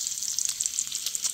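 Bacon frying in an antique Griswold cast iron skillet gives a steady, close crackling sizzle with tiny fast pops throughout a brief moment.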